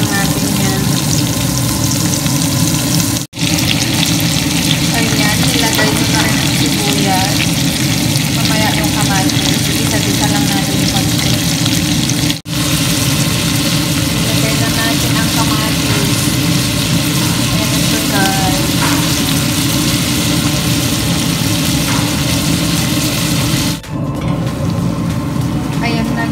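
Mushrooms fry with ginger and garlic in a pan, giving a loud, continuous close sizzle and crackle that barely changes throughout.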